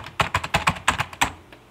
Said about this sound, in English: keyboard and maybe mouse noises